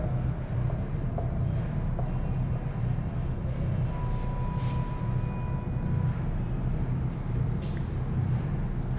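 Chalk or marker scratching on a board during a Hindi lesson on the Indian Constitution's fundamental rights, with steady strokes over a constant low room hum and no clear talk.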